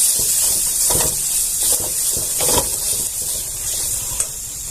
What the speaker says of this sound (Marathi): एक वाटी खोबरं घेतलेले आहे ते खोबरं घालून घेते इथं म्हणजे छान असं परतून जाईल